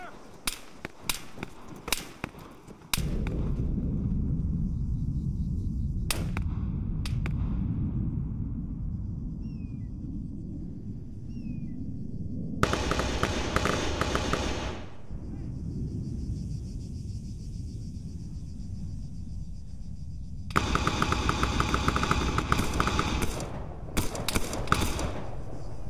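Gunfire in the Arma 3 military game, with bursts of sharp cracks in clusters at the start, in the middle and near the end, over a steady low rumble of wind and engine noise.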